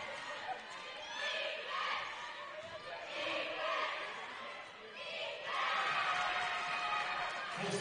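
A basketball crowd at a McMaster game roars in disapproval of a referee's call, a loud, sustained wash of shouting and jeering that swells and surges again toward the end, with talk mixed in.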